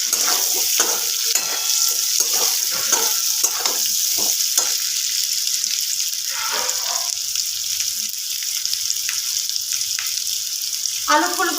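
Chunks of potato and cauliflower sizzle in a shallow layer of oil reused from frying fish, a loud, steady hiss punctuated by stirring knocks that ease off partway through before the sizzling carries on.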